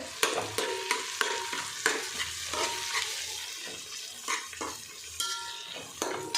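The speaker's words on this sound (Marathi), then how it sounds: "याचा कच्चा वास जाईपर्यंत आपल्याला हलवून घ्यायचे" Ginger-garlic paste frying in a pan for masala veg pulao while a spoon stirs and scrapes it, producing repeated clinks and scraping strokes over a constant close sizzle.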